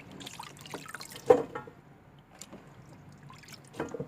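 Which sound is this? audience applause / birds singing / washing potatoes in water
washing potatoes in water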